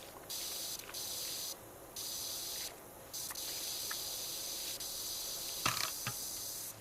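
Pressure washer spray from PowerWash Simulator 2 hisses in steady bursts, cutting on and off with short pauses between sprays, loud and close with no talk over it.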